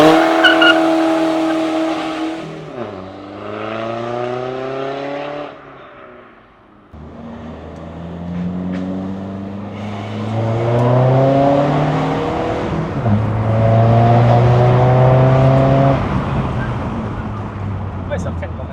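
A tuned stage 2+ Peugeot 308 with a 2-litre BlueHDI diesel engine accelerating through gears with rising and falling engine drone, then slowing under braking, heard from inside with occasional voices.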